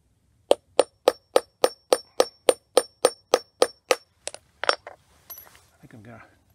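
A hammer strikes an 18650 lithium-ion battery cell in a steady run of about fourteen sharp metallic blows, close and loud, followed by a few scattered lighter knocks and some handling noise.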